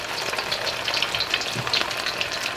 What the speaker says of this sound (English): I'm going to add the pork and stir fry this.